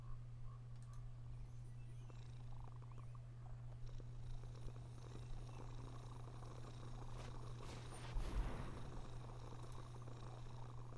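A low, steady purr hums continuously under faint background noise, with a brief louder rustle near the end.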